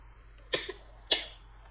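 Two short, sharp coughs, about half a second apart, close by against a quiet background.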